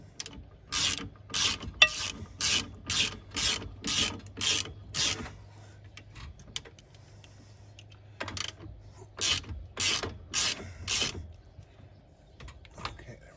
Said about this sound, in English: So we're going to get them tight on there